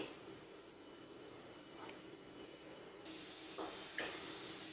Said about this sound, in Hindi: इसमें हम ऐड करेंगे प्याज और यहाँ पे हम इसे फ्राई करेंगे